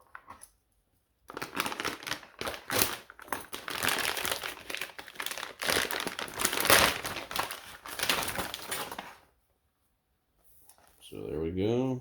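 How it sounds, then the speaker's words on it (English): A plastic bag being cut open crinkles and crackles loudly and close, in a long busy stretch of rustling followed by quiet, with a brief voice at the end. "probably easier to just cut open the bag here."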